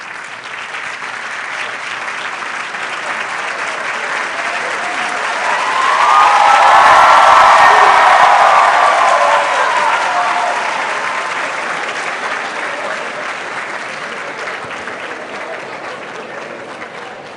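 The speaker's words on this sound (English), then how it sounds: "can we rise so that we can receive applause for our hard work?" Pharmacy faculty members receive a large audience's applause at a white coat ceremony, a dense sustained clapping that swells to a peak midway and then slowly tapers off.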